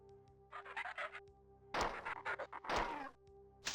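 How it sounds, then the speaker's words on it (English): In Classic Marathon, an ammo pickup produces short, hollow thunks, a burst of quick hits followed by two louder, heavier impacts, heard close over a steady low game hum. "Some ammo down there. Might as well pick it up."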